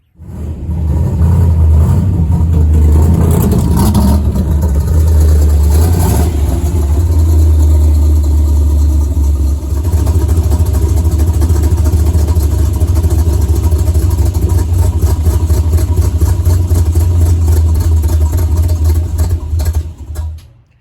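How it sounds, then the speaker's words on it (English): Loud, close V8 engine of a 1953 Chevrolet Bel Air gasser running as the car is moved, a deep steady rumble with a brief rise in revs early on, then a lumpy idle and some clatter. "Let's go ahead, pull the car outside, and take a look at how the wiring looks now."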